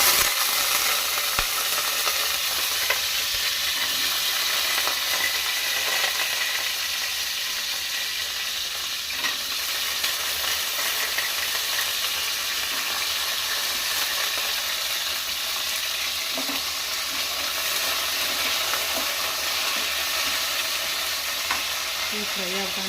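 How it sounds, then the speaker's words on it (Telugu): Potatoes frying in hot oil in a home kitchen while an egg curry is being made, giving a steady, continuous sizzle with light stirring scrapes throughout, close and moderately loud, with no talking. "కానీ పొటల్స్ వేగేసరికి టైం పడుతుంది కాబట్టి ముందు ఇవే ఆయిల్లో ఫ్రై చేసుకోవాలి."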